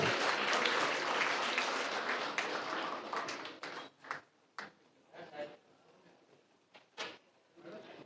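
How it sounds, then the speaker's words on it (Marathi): Students at an award and felicitation ceremony applaud loudly for about four seconds, then the clapping thins into scattered, uneven claps that trail off. "कृपया विद्यार्थ्यांनी जोरदार टाळ्या वाजवायच्या आहेत"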